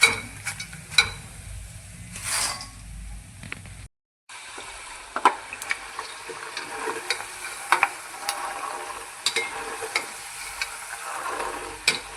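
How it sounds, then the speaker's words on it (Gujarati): Puffed rice (mamra) sizzles in hot oil in a kadhai, with soft crackling and intermittent scraping stirs, close and moderately loud, after a brief silent gap. "મેં કીધું પહેલાં કઢાઈમાં તરી લઉં"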